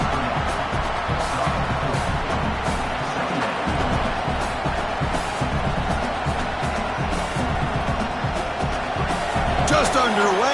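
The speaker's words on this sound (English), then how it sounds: "this home crowd is fired up and ready to make a difference today" Dense stadium crowd roar from EA College Football 27, Maine Black Bears against LSU Tigers, a steady loud wash of cheering that fills the whole stretch under a commentator's voice.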